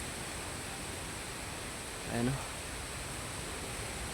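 Strong wind blows in a steady, loud, unbroken rush among coconut palms, with a short spoken phrase partway through.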